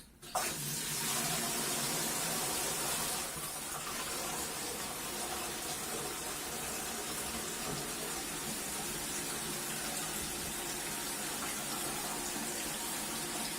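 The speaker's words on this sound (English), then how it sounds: "I turn the water on, and hopefully this thing here fills up quickly" A toilet tank refills through a newly replaced fill valve, a steady rushing hiss of water that starts abruptly and runs on evenly at close range, with no talking.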